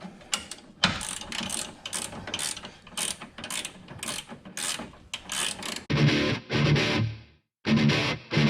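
A ratchet wrench tightens a 13/16 nut on a Camaro's QA1 front suspension, its pawl clicking in repeated bursts of quick strokes, close up, with a couple of pauses between runs.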